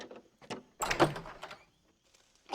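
A wooden door opens in the video game Red Dead Redemption, with a creaking, rattling swing of about a second and a couple of soft knocks around it, close and fairly quiet.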